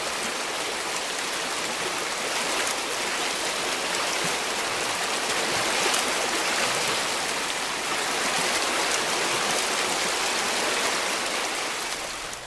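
Water rushes steadily through a gold mining highbanker sluice on the North Fork of the Feather River in California, a loud, continuous, unbroken splashing roar with no talking.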